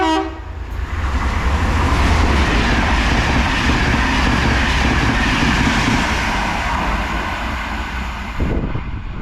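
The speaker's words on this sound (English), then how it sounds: "passing through now is a 67 set heading to Manchester Piccadilly from Cardiff Central" A Class 67 diesel locomotive hauls a passenger train through a station, a loud, steady rumble of engine and rolling wheels sustained throughout, with a brief horn-like toot near the start.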